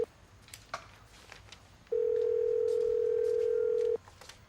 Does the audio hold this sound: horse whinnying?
no